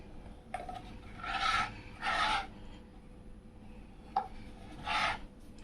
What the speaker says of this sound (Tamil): பாருங்கள் இந்த மாதிரி தேய்ச்சி பீஸா கட்டரை வச்சு இந்த ஓரத்துங்களை நம்ம கட் பண்ணி எக்ஸ்ட்ராவாக எடுத்துடலாம்.